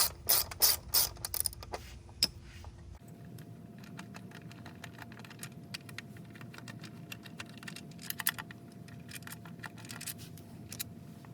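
A ratchet clicks rapidly in short bursts while backing out T30 screws on the rear quarter window regulator of a 2006–2010 BMW 6 Series E64, followed by quieter, sparse mechanical clicks and handling noises close by.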